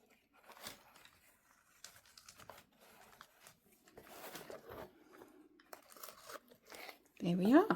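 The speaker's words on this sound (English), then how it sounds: "that frog tape works really well. It comes off quite well." Frog tape peels off DAS paper in short crinkly tearing bursts spread across several seconds, quiet and close, with a brief voiced sound at the very end.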